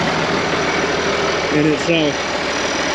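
An International Harvester 4166 tractor, once abandoned and rusted, idles steadily with a low rumbling engine beneath brief speech.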